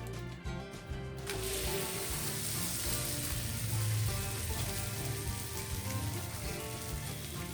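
An aloo paratha, a potato-stuffed flatbread, cooks on a pan with a steady, dense, rain-like sizzle that starts after a short quieter moment and holds at a moderate level.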